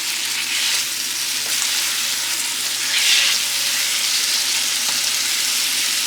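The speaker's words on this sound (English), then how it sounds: "I'm gonna add a little minced garlic to it as well. And continue saute." Shrimp and minced garlic sauté in a hot pan with a loud, continuous close sizzle that swells briefly midway, with no voices.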